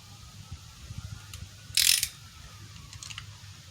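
A ratchet torque wrench tightening the cylinder head bolts on a 2006 Grand Prix engine to 90 foot-pounds, with soft mechanical clicking and a single sharp metallic click burst midway, close and without talk.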